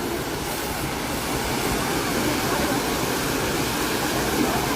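Strong, steady rush of a waterfall at a river falls where a woman drowned, a dense unbroken roar of heavy water impact held at constant loudness throughout, with no voices over it.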